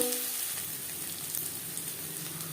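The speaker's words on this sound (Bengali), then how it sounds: "আদা ও কাঁচা লঙ্কা বাটা নাড়াচাড়া করে নেওয়ার পর" Ginger and green chili paste sizzles steadily in a pan while being stirred for an egg omelette curry, a constant close crackling hiss with no talking.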